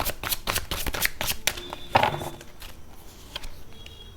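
Tarot cards are shuffled close up, a quick run of crisp riffling flutters and slaps in the first half that thins to a few soft card taps and slides.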